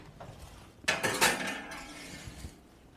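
A pizza crust pan slid into a 375 degree oven, a sharp metallic clatter and scrape of the pan on the rack, close and brief, followed by a faint knock as things settle.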